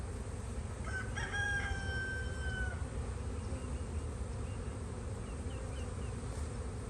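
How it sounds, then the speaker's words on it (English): Honey bees swarm over an open, full brood box in spring, a dense, steady buzzing close by throughout, with a rooster crowing once in the background early on. "A lot of bees"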